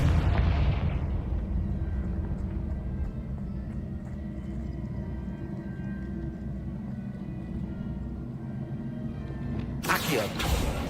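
A Confringo spell explosion in Hogwarts Legacy, with a loud fiery burst at the start that fades into a long low rumble, and a second sharp blast near the end.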